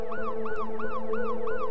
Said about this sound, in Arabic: هيقوم نادي على الاسعاف، تعالى تعالى اسعاف